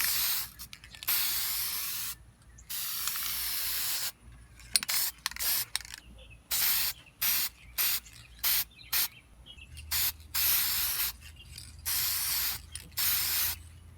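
Aerosol spray paint laying a second coat on a Honda Civic grill, a series of short hissing bursts of varying length separated by brief pauses, close and fairly quiet.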